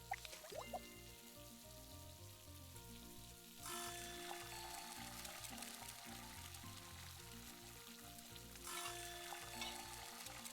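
Food sizzles in a frying pan in a video game cooking scene, a faint crackling hiss with two louder bursts as ingredients hit the pan, under soft game music.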